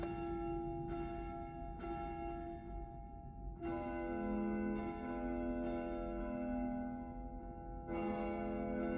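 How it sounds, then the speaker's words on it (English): A large church bell rings the Angelus in The House of Da Vinci III video game, with repeated deep strikes about a second apart whose long, humming tones overlap and linger, fairly distant and fading between blows. "I heard ringing of a large bell."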